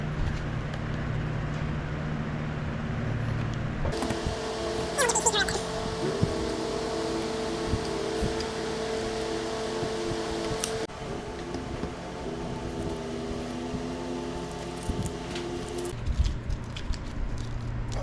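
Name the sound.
drilling holes for the feet of a wooden cutting board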